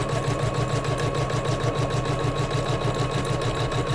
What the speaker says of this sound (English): I actually slowed my machine down because I'm going to watch this all stitch on here.